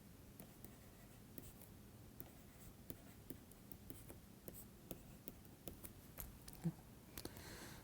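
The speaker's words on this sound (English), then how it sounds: "So, let me write." Pen or chalk writing on a surface while working through a curvilinear transport equation: quiet, steady scratchy strokes with small taps, close and alone with no talking.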